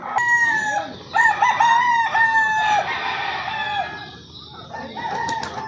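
Imported gamefowl rooster crowing several times in close succession, loud and near, with clucking and other fowl sounds in the background.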